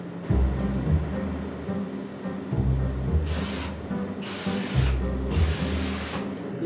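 Bursts of loud, hissing high-pressure water spray come and go several times over a steady rumbling background, close and forceful, while cleaning a manhole shaft.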